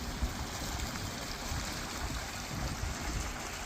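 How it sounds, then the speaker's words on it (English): A small babbling brook pours out of a culvert beside a wetland on a wooded hiking trail at Pawtuckaway, giving a steady, close rush of trickling, gurgling water that runs unbroken with no voices. "Got a nice babbling brook down this side"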